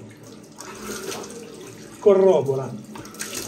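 Cold mountain water runs from a tap to rinse the face after a shave. It makes a steady splashing wash with a louder gush partway through, and someone speaks briefly over it.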